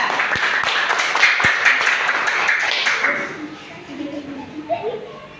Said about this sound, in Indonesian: Tepuk tangan ke kelompok 2.